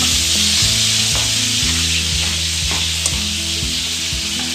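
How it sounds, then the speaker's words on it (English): Duck skin frying in a pan, a loud, close, continuous sizzle with steady crackling and a faint underlying hum, with no voices. "As you can see, duck skin is starting now to get nice and crispy."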